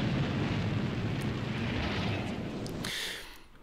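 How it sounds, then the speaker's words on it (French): Explosion in James Cameron's film Aliens: a loud, sustained roaring blast rumbling for about three seconds before cutting off abruptly into a fading hiss, with no speech. "Tout explose."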